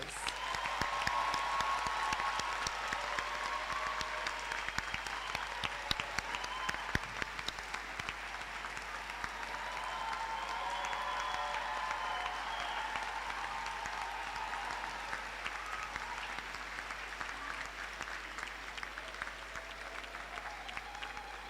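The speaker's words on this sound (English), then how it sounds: "Let's give them a huge round of applause." Sustained applause from a large audience, steady clapping filling the whole stretch at a moderate distance, without voices breaking through.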